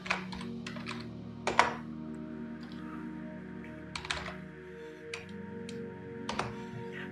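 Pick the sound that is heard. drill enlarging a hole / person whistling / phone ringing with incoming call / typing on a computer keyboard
typing on a computer keyboard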